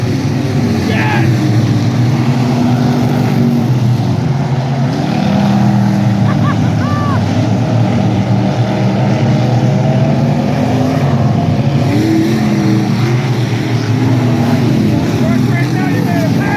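Race cars on a dirt track, a constant loud engine roar with revving and shifting pitch from nearby cars, steady throughout, with excited voices shouting over it.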